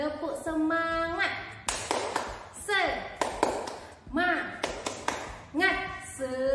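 A teacher-led 'tepuk semangat' clapping chant from a children's lesson: bursts of sharp hand claps in a quick rhythmic pattern alternate with a chanting voice, close and moderately loud.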